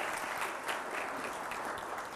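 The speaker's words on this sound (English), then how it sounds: "Round of applause for your very own Dr. Gilmore." A university audience applauds a guest speaker at a Black History Month kickoff event, with dense, continuous clapping from a large crowd that stays full and steady from start to finish.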